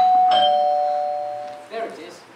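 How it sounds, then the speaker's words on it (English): A doorbell rings on stage during a school's annual English murder-mystery play, its clear sustained chime ringing out loudly and slowly fading while actors' voices come in near the end. "But the doorbell rang!"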